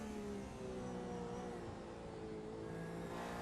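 Racing car engine heard onboard at Watkins Glen during an endurance race, lifting off the throttle mid-corner; a steady, loud engine drone with harmonic tones easing and shifting throughout.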